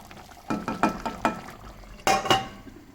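Thick chicken masala gravy boils in a pot, giving off a handful of loud, irregular bubbling plops up close, with quieter stretches between them.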